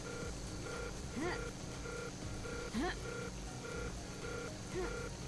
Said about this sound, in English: What is that alarm noise?